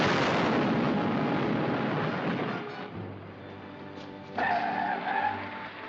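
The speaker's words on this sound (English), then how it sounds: "Wasn't that an explosion?" A loud, broad rumbling roar that gradually fades, then a second burst of noise swells briefly; sounds like a distant explosion with rolling echoes.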